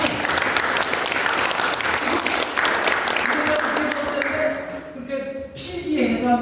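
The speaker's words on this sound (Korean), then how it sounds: "일어나서 박수 한 번만 받아주시기 바랍니다" A lecture-hall audience at a spring humanities talk claps steadily and densely, the applause thinning out partway through as a voice begins speaking.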